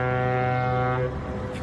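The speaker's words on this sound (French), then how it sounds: "Écoutez, ça, c'est mon bateau qui s'en va." A ship's deep horn sounds as the boat pulls away from port. One loud, steady, low blast holds for about a second and then fades into background noise.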